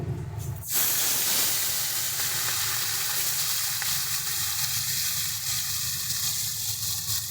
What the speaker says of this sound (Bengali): এবার এক এক করে মাছগুলো দিয়ে আমরা ভেজে নেব